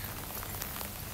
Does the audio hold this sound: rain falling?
yes